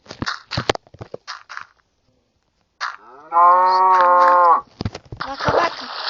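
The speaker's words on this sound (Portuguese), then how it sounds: "Vaca, vaca." A Minecraft cow gives one clear, drawn-out synthetic moo in the middle, loud and close. Short bursts of game sounds and brief spoken words come before it, and more game noise follows.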